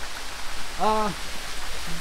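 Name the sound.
water flowing at Palikata Khum waterfall pool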